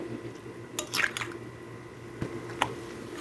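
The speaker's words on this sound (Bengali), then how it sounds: "এখন এটাকে আমি ভালোভাবে একটু মিশাই নিব" Coconut shrimp mixture being mixed by hand, giving soft wet squishes and drips that come in a few brief bursts over low background noise, close and fairly quiet.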